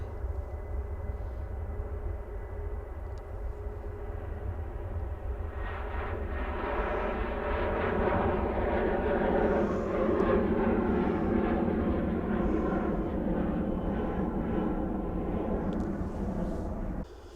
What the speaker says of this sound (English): this TUI is going to Gran Canaria. It's a 737-800.